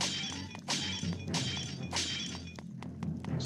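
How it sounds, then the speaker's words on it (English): Pots smash in the video game Zelda: A Link Between Worlds, several sharp ceramic shattering crashes in quick succession, each with a bright breaking burst and brief rattle of debris, close and clear with no talk. "Smashing pots."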